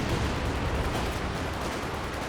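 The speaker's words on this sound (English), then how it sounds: "There's another Katyusha barrage." A Katyusha rocket barrage in Company of Heroes 2 makes a dense, continuous roar of blasts and rumbling impacts, loud and unbroken, with no talking.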